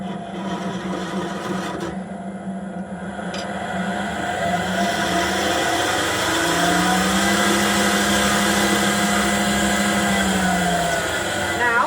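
Wood lathe spinning a spindle in a steady hum, with a gouge cutting curly shavings at low speed; the tone rises and steadies midway, continuous and close throughout.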